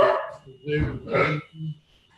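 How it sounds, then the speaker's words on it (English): A dog barks a few times somewhere in the home of someone on a Zoom meeting, the barks fairly faint and mixed with the muffled sound of a voice talking over the call. "Stop your dog barking, Jo."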